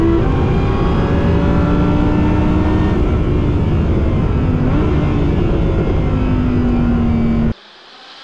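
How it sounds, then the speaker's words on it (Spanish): Supercharged V10 of an Audi R8 GT MTM roaring loudly and continuously, a high-pitched sustained engine note that shifts as it revs, cutting off abruptly near the end. "Con ello no se pierde el sonido agudo del motor V10"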